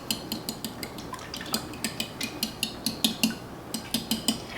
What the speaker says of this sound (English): go ahead and whisk this up with the fork